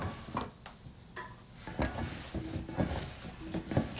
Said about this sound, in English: you see how it's just all being mixed in with the breadcrumbs